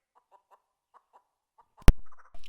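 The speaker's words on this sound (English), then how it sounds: "used real chickens for the audio for Nugget" Real chickens cluck in a string of soft, short clucks, followed by a sharp loud burst and a few quicker, higher clucks close by.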